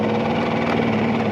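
A Mercury two-stroke V6 outboard boat engine runs hot and wet at a steady idle, a close, continuous mid-pitched drone with a slight rough pulsing and no voices.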